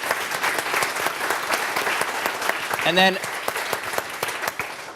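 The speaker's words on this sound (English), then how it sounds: "So big round of applause for all the organizers for today and all of you." An audience applauds the organizers at a book launch event, with dense, steady clapping throughout and a brief voice speaking over it near the middle.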